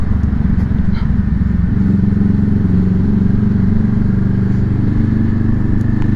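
Motorcycle fitted with a new exhaust, idling loudly up close, a steady throbbing engine rumble that deepens and firms slightly after a moment and holds for the rest, with no talking.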